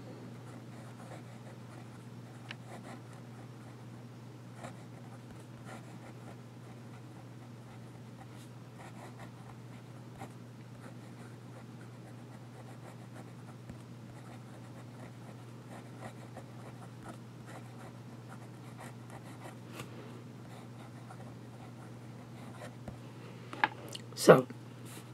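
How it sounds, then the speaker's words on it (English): A fountain pen with a flex nib scratches softly across paper, faint scattered strokes over a low steady hum, ending in a few sharper taps. "And we do a little bit of writing."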